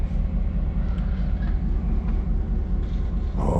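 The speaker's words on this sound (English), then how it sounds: "Oh man, you guys know the train's coming." An approaching train gives a steady, heavy low rumble that continues without a break throughout, with a faint brighter rise near the end and no voices.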